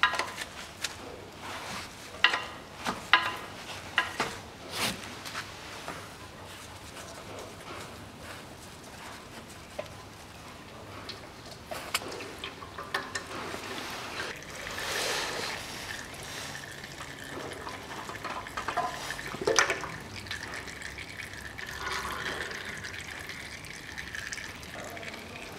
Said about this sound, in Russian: Вот, сейчас масло стекет.